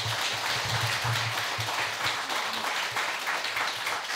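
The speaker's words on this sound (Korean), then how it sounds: "박수 부탁합니다." An audience applauds at a Buddhist memorial dharma service, a steady, moderately distant wash of many people clapping, with a low hum beneath.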